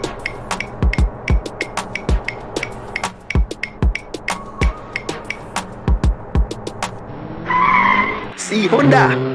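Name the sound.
Honda car tires skidding, animated cartoon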